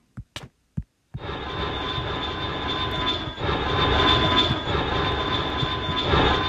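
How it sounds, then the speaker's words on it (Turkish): Passenger airplane engine from a Minecraft airplane mod, a steady loud drone with a high whine that starts after a few short clicks and holds to the end. "Bu yolcu uçağı böyle."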